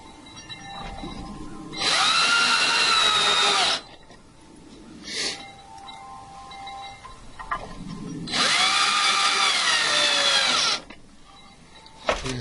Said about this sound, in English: I'm not putting all of the screws in, just to save time to show you how to put it together